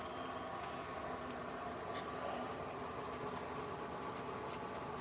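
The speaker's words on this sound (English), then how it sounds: "Oh, those are tree frogs, Coupon." Tree frogs call at night during a rainy spell, a continuous shrill chorus of many overlapping voices at moderate distance, even and unbroken.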